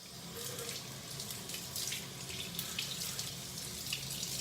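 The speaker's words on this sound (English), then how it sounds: "Just rinse real quick." A razor cartridge is rinsed under a running tap at a sink after shaving with soap, a steady, close rush of water with small splashy changes as the blade moves through the stream.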